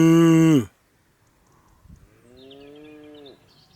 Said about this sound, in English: Just green rolling hills and cattle mooing to each other.